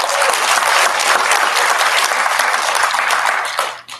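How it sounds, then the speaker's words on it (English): Loud, dense applause from an audience at an Indonesian community culture day event, continuous clapping that holds steady before fading out at the end. "Please give a round of applause for the organizers for today"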